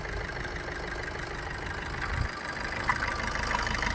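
A Maruti Suzuki Swift VDI automatic with a diesel engine and 45,000 km on it idles with the bonnet open in a steady, even mechanical hum heard alone, with a couple of faint knocks.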